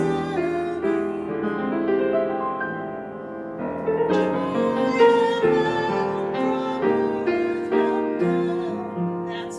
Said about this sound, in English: Let me actually show you what this sounds like both ways. So if I was to play this with those bars inserted